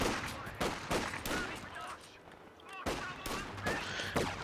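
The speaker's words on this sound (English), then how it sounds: "Shooting down at Jerry." Gunfire in the World War II strategy game Company of Heroes 2, loud repeated shots and bursts over continuous battle noise, with someone talking over it.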